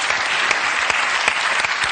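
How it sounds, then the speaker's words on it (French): Steady studio audience applause on a French TV variety show, a dense, continuous clatter of many hands clapping with a few sharper claps standing out, loud and uninterrupted. "pouvez l'applaudir"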